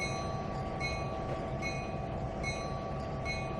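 A train rolls steadily in the Trainz 2022 rail simulator on the Tidewater route, a constant close rumble with faint metallic clicks recurring at regular intervals, and no voices.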